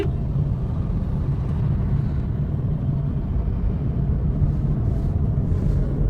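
Interior rumble of a Toyota Corolla Grande cruising along a motorway, a steady low road and engine drone heard alone without speech.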